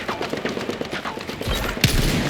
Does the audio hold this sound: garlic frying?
no